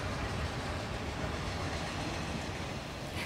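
A train running on the Gazprom railway in Siberia, a steady loud rumbling roar that holds evenly throughout with no voices.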